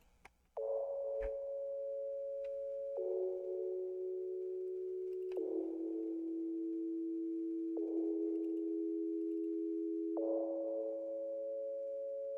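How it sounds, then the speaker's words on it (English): Synthesizer pluck melody from an electronic music production, clean tonal notes stepping between pitches in a slow, steady pattern, each struck roughly every two and a half seconds with a brief bright attack and long sustain, heard alone. "So this pluck is actually the first thing I ever made in this draft"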